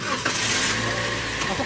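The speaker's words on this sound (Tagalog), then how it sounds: "At ito namang makina, ipa-start ko yan." A car engine cranks and catches during brake-bleeding work in a garage, a short burst of low mechanical rumble settling into a running engine, heard close by.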